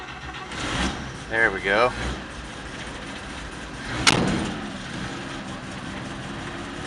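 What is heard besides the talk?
1951 Chevrolet pickup truck engine revving and idling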